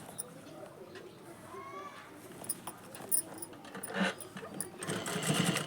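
A sewing machine runs steadily while stitching elastic onto fabric, a close whirring buzz with small clicks and rises in speed, and a voice is faintly audible beneath it.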